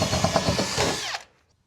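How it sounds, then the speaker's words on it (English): Power drill whirring as it bores a bigger hole for conduit in a solar-powered off-grid shed in Arizona, close and steady for about a second before winding down and stopping. "So I'm just gonna drill a bigger hole"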